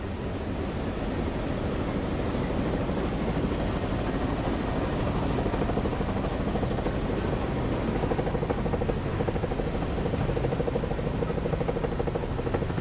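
Steady, loud helicopter rotor noise thrums continuously on a flight over Victoria Falls, Zimbabwe, a dense droning flutter heard from inside or very close to the aircraft.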